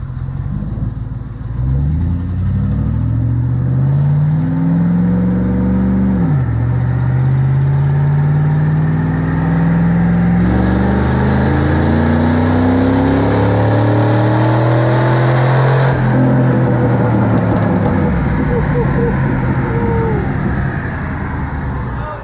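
A loud GMC Sierra truck engine with its air box removed revs up and down repeatedly, its pitch rising and falling in long sweeps, rough and throaty close by, with no talking.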